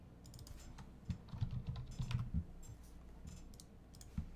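Rapid clicking of a computer mouse and keys during an online tabletop role-playing game, a scattered run of light taps with a few sharper clicks, close and fairly quiet, with no voices.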